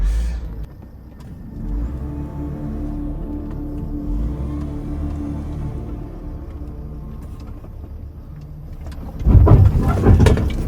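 A camper van engine labors and drones steadily while straining on a difficult road, holding a low rumbling tone before a louder, rougher burst of noise near the end.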